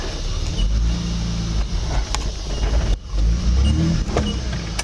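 A short-wheelbase Bundera 4x4 idles and creeps back and forth on rock, with engine revs swelling and dropping and a few clicks and knocks.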